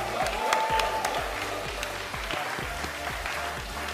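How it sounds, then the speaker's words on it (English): Scattered applause from a small crowd for a FIFA gaming winner, a run of fairly steady claps heard from a moderate distance with faint background murmur. "So a massive round of applause for the winner."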